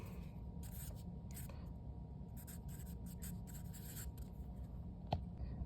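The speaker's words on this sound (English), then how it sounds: "Let me write it down." Hand writing on paper, a faint close scratch of pen strokes in short bursts with pauses over a low room hum, no talk.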